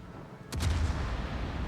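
Warship gun salvo in a competitive naval video game, a single deep, heavy boom that rolls into a low sustained rumble, fairly distant and soft over background noise.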